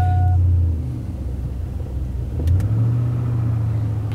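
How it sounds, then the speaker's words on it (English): A truck engine idling then pulling away toward a garage, a steady low rumble that dips and swells again as it accelerates, close and loud with no speech. "it's big enough I do need to drive the truck down to the garage"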